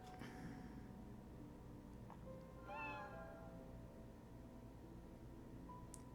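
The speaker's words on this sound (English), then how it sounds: "When I step out the back door, I see Kosuke Tanaka feeding some kittens." Kittens in the video game Root Letter give a single clear meow midway through, heard over a steady low background hum, with a faint chirp near the end.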